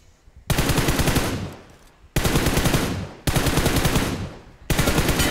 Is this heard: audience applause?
no